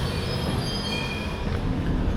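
A London Underground 1973 Stock Piccadilly Line train rumbles past at steady volume, with a low rolling roar and faint high metallic squeals from the wheels on the track.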